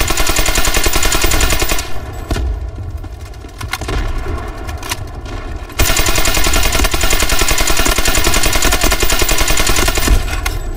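Automatic gunfire in the Delta Force: Hawk Ops video game, loud sustained machine-gun bursts that thin out briefly in the middle before a heavy stream of rapid shots resumes, with no talk over it.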